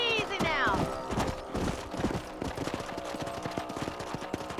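In the Red Dead Redemption video game, a ridden horse's hooves clip-clop in a steady rhythmic gait across open ground, close and continuous, with a brief animal whinny near the start.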